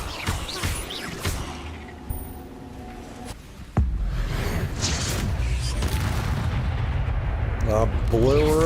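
A spell explosion in the Hogwarts Legacy video game, a sudden loud boom followed by a sustained roaring blast, with scattered speech and game sounds before it.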